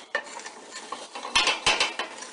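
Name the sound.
stirring butter and crushed pepper for pepper sauce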